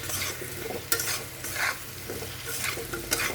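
Potatoes and onions fry in oil with turmeric, a steady sizzle broken by several scraping stirs of a spatula, close and moderately loud with no talking.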